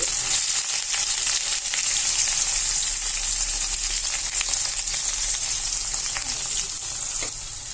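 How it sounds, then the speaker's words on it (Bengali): Chopped onion and garlic fry with cinnamon and cardamom in a pan for chicken khichuri, a loud, dense, steady sizzle heard up close with faint crackles and stirring throughout. "এবার আমি পেঁয়াজটাকে একটু ব্রাউন কালার করে ভেজে নিব।"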